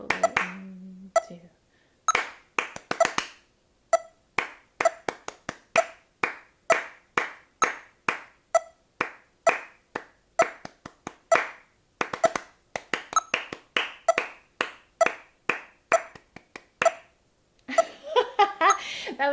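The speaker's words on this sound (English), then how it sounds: "So let's try and just do our best clapping this rhythm" Hands clapping out a practice rhythm for a band audition piece by Bach, a close, dry series of sharp claps in uneven groupings with quick bursts and pauses, alone without talk.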